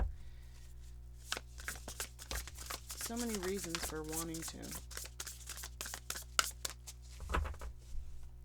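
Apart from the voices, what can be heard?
shuffling cards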